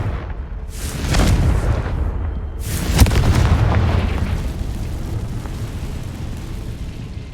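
Confringo fire spell explosions in the Hogwarts Legacy video game: two heavy booming blasts a couple of seconds apart, each swelling into a long rumbling tail that fades slowly, with no talking.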